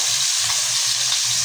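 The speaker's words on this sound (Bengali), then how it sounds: "তেল গরম হয়ে গেছে, মাছ দিয়ে দিচ্ছি" Spiced tilapia fish pieces frying in hot oil in a kadai: a loud, dense, close crackling sizzle that holds steady throughout with no voices, cutting off abruptly at the end.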